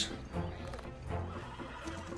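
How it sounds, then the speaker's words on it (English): A horse in the Red Dead Redemption 2 video game whinnies loudly after being hit by a tram, with some hoof clatter, no talk. "The tram hit my horse!"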